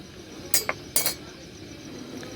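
A spoon stirs tea in a cup, a few light clinks of metal against the cup rim in quick succession, close and quiet over faint room noise.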